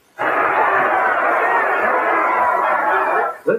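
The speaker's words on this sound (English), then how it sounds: "In this film can are the sounds of crowd cheers" Dense crowd cheering from a film sound-effects can for a racetrack scene, a steady roar of many voices that swells in at once and holds at full loudness, then cuts off abruptly.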